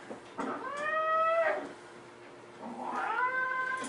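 A cat in a kennel gives two drawn-out, wavering meows, close and loud, separated by a short pause.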